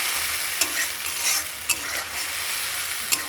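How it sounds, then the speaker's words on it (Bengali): An onion, tomato and spice paste fries in a pan with a steady loud sizzle, broken by three sharp scrapes of stirring at regular gaps; no voices. "এই মশলাটা একটু ভালো করে ভেজে নিচ্ছি বন্ধুরা।"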